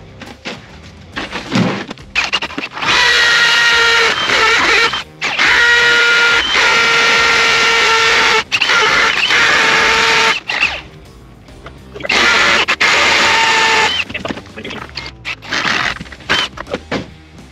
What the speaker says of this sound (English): and now I can screw all the holes.